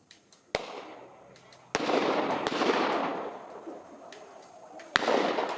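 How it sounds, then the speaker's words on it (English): Several sharp gunshots crack at a distance during a tax protest near Parliament, spaced irregularly, each followed by a rolling echo over a noisy outdoor background. "As we hear more gunfire."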